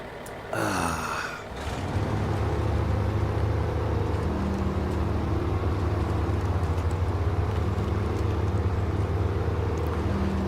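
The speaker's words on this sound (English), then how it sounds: "It's one of the best sounding trucks in the game, in my opinion." A deuce and a half military truck engine in the SnowRunner video game drones steadily at low pitch after a brief rising whine at the start, loud and continuous, with no talking.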